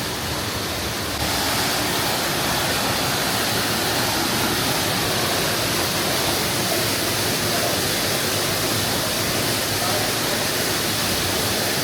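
Milky Bar Waterfalls, a three-step waterfall in Tamhini Ghat, roars as a steady, loud, broadband rush of falling water that never lets up, with no voices over it.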